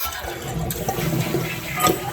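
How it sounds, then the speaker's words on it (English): A household toilet flushes with a gravity flush valve and fill valve, giving a steady rushing gush of water that runs throughout and surges briefly near the end, fairly close and with no voices. "And when you flush it,"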